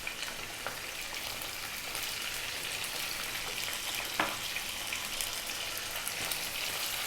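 Skin-on, bone-in mixed chicken pieces seasoned with salt and pepper sear in a hot pan, giving a steady, dense sizzle throughout with a couple of brief sharper pops and no talking.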